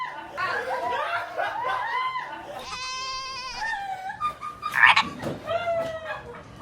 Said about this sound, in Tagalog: Biglang naglabas ng palaka.